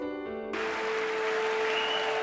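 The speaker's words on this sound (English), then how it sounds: "he got a standing ovation from both parties" Applause rising into a sustained standing ovation in the U.S. Congress for President Bush after he announced a crackdown on congressional earmarks, a dense wash of clapping that swells after a brief tonal lead-in and continues steadily.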